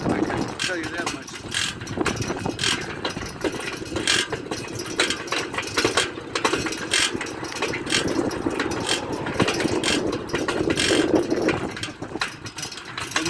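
An old motorcycle engine runs steadily at a rough, rattling idle, sounding loose and clattery, with sharp ticks and knocks throughout and someone talking over it.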